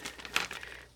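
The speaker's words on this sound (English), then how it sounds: "We will rip" The lid of a hobby paint jar is ripped off in one brief close crinkling, tearing snap with a sharp peak midway.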